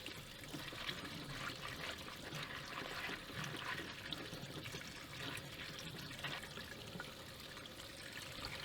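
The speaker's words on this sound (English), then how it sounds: "So I like to use a strainer, just run water through it." Tap water runs steadily through a strainer over freshly dug cutleaf toothwort roots, a continuous hissing, splashing stream that stays even throughout with no voices.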